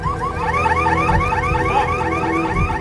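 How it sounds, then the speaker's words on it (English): Car alarms wail from the wreckage of a collapsed apartment block, a loud, continuous electronic whooping with repeating rising tones that overlap into a shrill, steady chorus with no speech. "From the ruins comes a shrill symphony of car alarms."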